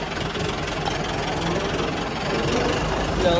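A tractor engine running steadily after being shifted into gear, a continuous low rumbling drone at close range, fairly loud and even.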